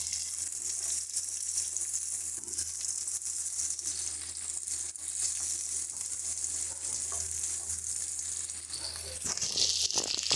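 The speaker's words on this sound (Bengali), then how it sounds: "আর দিয়ে দেব আগে থেকে ভিজিয়ে রাখা কিশমিশটা। ভালো করে ভেজে নেব এবার একটু।" Pre-soaked raisins and nuts frying in a pan for Basanti pulao, giving a steady, close, even sizzle that continues without a break and with no voices.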